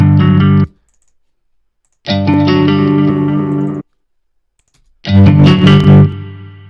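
A distorted, chorus-laden pop guitar preset from a VST plugin plays three loud, short phrases of strummed chords separated by silent gaps.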